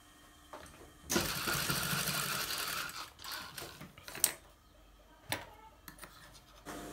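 An electric sewing machine stitches bra fabric in a quiet room: a dense mechanical whirr runs for about two seconds, followed by softer intermittent clicks and rattles as the fabric is handled.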